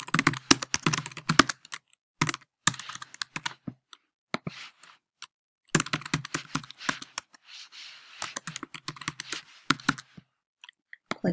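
Computer keyboard typing while filling in a sign-up form, close crisp bursts of rapid keystrokes separated by short pauses.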